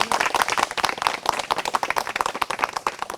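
Dense, steady applause from a game show audience for a comedy performer, many hands clapping loudly and continuously with no pauses, filling the whole stretch.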